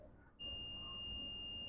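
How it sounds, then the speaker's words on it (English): A multimeter gives a continuity beep while probing the fuse line of a MacBook Pro 15-inch A1707 with a no-power fault, one steady high electronic tone that starts abruptly and holds, quiet and alone. "We have a beep on that side"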